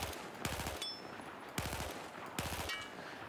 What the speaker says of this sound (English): what you can do is you can learn to fire in 3-round bursts